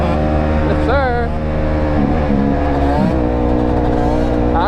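A Yamaha YZ 125 two-stroke dirt bike engine revs loudly and close, its pitch climbing and dropping across several throttle blips, with a voice faintly underneath.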